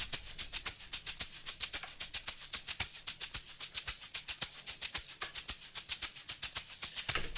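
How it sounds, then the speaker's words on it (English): Two shaker loops layered together in an amapiano beat, a steady rapid pattern of crisp, bright shakes repeating without a break and standing alone with no other instruments or voices. "And the both shakers together sounds like this basically."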